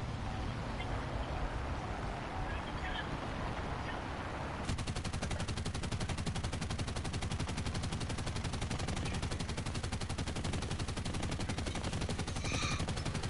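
Machine guns fire in War Thunder, first under a low engine drone, then in a sustained rapid burst that rattles steadily to the end.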